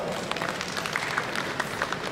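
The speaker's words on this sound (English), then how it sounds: "Please welcome sir with a huge round of applause" An audience at a hackathon opening ceremony in Noida applauds, a steady patter of many hands clapping, somewhat distant and moderately quiet, with no voices.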